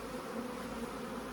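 Honeybees drone steadily at an open hive during a September brood inspection, a faint, continuous buzz holding even throughout with no voices.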